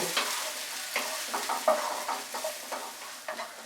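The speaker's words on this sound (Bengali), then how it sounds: "আদা রসুন আর পেঁয়াজ কুচিটাকে আমি 1 মিনিট জাস্ট মিডিয়াম আঁচে ফ্রাই করব।" Ginger, garlic and chopped onion fry over medium heat in a pan, a steady close sizzle broken by regular scraping stirs from a spoon. No voices are heard.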